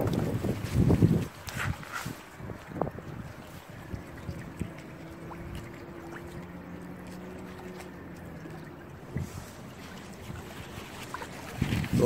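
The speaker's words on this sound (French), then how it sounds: "s'il n'y avait pas ce vent ce serait parfait" North wind gusts buffet the microphone in low rumbling bursts while fishing, with faint water movement underneath and no talking.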